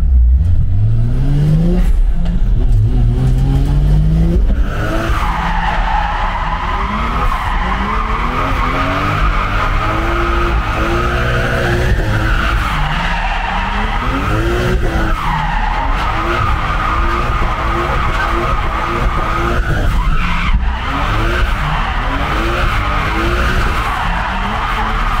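A BMW E46 drift car with a 2JZ engine revs hard while its tires skid and squeal at a drift event in Hradec, with loud rising and falling engine sweeps and continuous tire screech close by.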